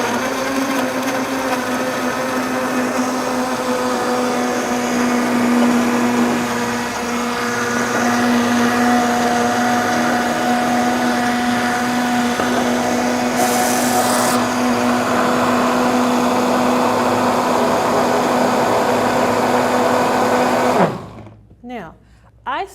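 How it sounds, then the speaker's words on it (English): A Vitamix blender whirs loudly and steadily as it blends strawberry sorbet, its motor whine holding nearly constant before cutting off abruptly near the end. "put it in your Vitamix, if you have one, and blend it up"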